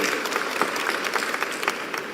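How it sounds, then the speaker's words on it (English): A conference audience gives a short burst of applause, fairly distant and moderately loud, with scattered louder claps. "we should have applause here"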